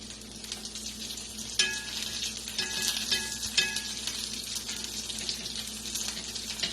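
Bean patties fry in bacon grease, a soft continuous crackle and hiss close by, with a few brief clinks of a utensil against the pan partway through and no talking.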